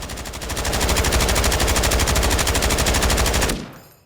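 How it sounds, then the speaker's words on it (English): Rapid sustained MK46 Mod 0 machine-gun fire in Call of Duty: Modern Warfare III, a dense burst of about 50 rounds for several seconds that stops abruptly. "Go ahead now and just let this thing rip and check out the recoil pattern"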